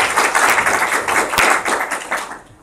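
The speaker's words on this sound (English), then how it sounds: "Big clap." Conference audience clapping for a speaker taking the stage, a dense, steady patter of many hands up close that fades slightly toward the end.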